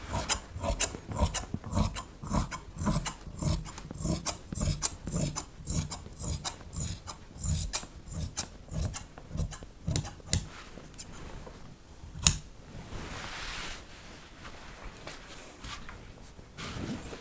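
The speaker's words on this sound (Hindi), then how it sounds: "तो ये हमने पेप्लम का फ्लेयर वाला हिस्सा भी कटिंग कर लिया।" Scissors snip steadily through fabric while cutting the flared part of a peplum top, a regular run of close rasping cuts that thins out to sparse snips and rustling near the end.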